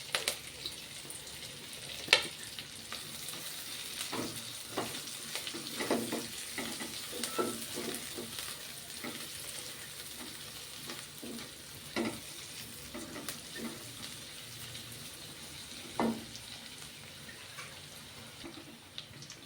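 Onion and cabbage sizzle steadily in a hot pan while they are stir-fried for noodles. Clattering scrapes and taps from stirring break through the constant frying hiss.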